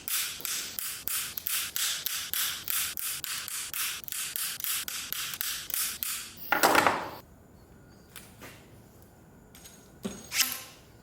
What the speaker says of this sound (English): I have time and time again found bandsaw to be the best way to cut, especially the steel braided stuff.